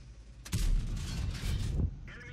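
A tank gun fires in World of Tanks, one sharp booming shot followed by a rumbling tail that fades after about a second and a half, loud and near.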